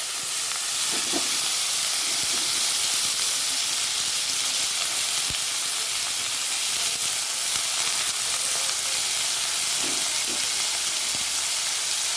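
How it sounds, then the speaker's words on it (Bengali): Five-spice seeds and a dried red chili fry in hot oil in a wok, a loud, continuous close hiss and sizzle with faint occasional taps and no speech. "কড়াইতে চাপিয়ে তেলটা দিয়ে দিচ্ছি আর এখানে নিয়ে নিচ্ছি একটু পাঁচ ফোড়ন পাঁচ ফোড়নটা দিয়ে দিলাম"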